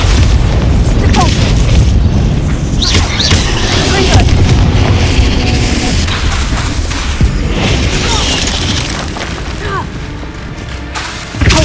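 Bombarda spell explosions in Hogwarts Legacy, a continuous barrage of loud booming blasts and crashing debris layered over game music and effects, dense and heavy throughout.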